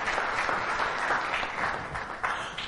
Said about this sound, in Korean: 큰 박수로 람차란 박사님을 환영해 주시기 바랍니다.